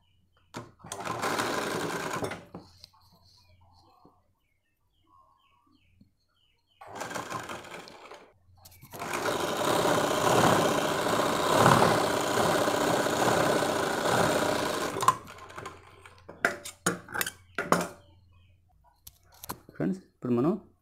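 A sewing machine stitches a bra belt in short bursts and one long steady run of rapid whirring, close up, with pauses and brief clicks between runs.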